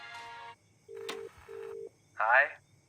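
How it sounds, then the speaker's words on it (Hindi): A telephone number dialed as a few short separate electronic tones, clear and close, in a quiet room with a brief rising tone at the end. "मैं रायन को कॉल कर रही हूँ."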